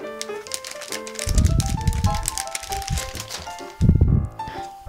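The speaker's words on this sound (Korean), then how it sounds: "그러면 한번 옷을 포장을 뜯어서 볼게요" Crinkling and tearing of slightly thick plastic packaging being opened around a duck-themed cat T-shirt, coming in rough bursts over steady background music.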